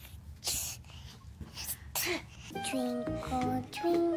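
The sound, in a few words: sneeze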